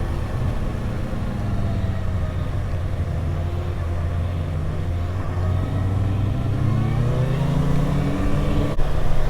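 A 2021 Kawasaki Ninja ZX-6R 600cc sportbike holds third gear on the road, its engine droning steadily with a rising and falling pitch and constant rumbling wind noise throughout.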